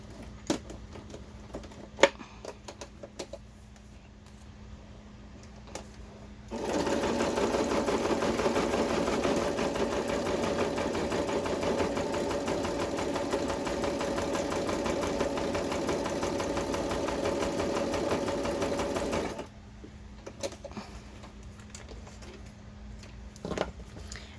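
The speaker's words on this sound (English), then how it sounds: "I sewed it completely around on the bottom all the way up" A sewing machine stitching around the edges of a paper bag, starting after a few quiet clicks and then running as a steady, fairly loud hum for about thirteen seconds before stopping, followed by light handling taps.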